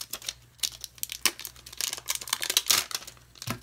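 Paper wrapping is torn and pulled off Pokemon TCG XY booster packs, making close, loud crinkling and crackling in quick irregular bursts, with no talking.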